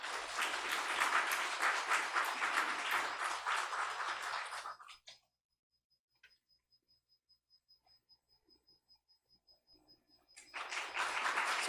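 Applause from a church congregation during a Sunday service awards ceremony, a dense burst of clapping for about five seconds that stops abruptly, leaving near silence with faint ticks, then resumes loudly near the end.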